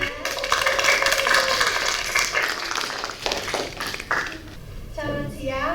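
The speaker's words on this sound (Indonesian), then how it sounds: "Boleh tepuk tangannya." Clapping for group 1 in a university teaching session, a moderate spatter of hands that thins out partway through, with a voice talking over it and continuing after.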